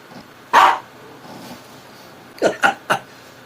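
A dog barks nearby, one loud single bark followed after a pause by a quick cluster of three sharper barks, with quiet room noise between.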